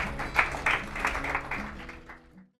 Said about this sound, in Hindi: तो जोरदार तालियां सोनिया जी के लिए।